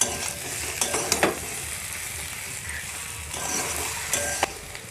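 Fried eggs and potatoes in masala for an egg curry are stirred in a hot pan, with a constant close sizzle broken by sharp scraping and clicking strokes of the spatula.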